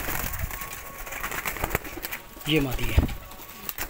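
Pigeons for sale in Lahore, Pakistan, coo softly amid shuffling and handling noise while someone talks over them, with one clear low coo standing out near the middle.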